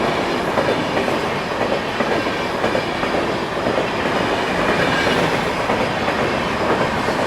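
Darshan Express passenger train rolling past close by on an Indian rail line, a loud continuous roar of wheels with steady clickety-clack over the track joints throughout, no voices.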